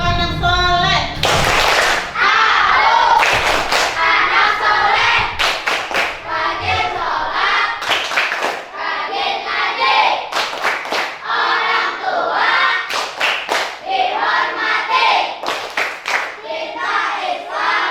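A classroom of students performs the tepuk soleh clapping chant, with loud rhythmic bursts of group hand claps mixed with chanting voices throughout.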